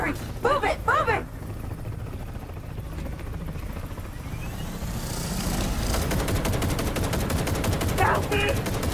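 Rapid gunfire from the Cyberpunk 2077: Phantom Liberty video game, with dense bursts of shots that grow louder and more continuous in the second half, mixed with shouting voices near the start.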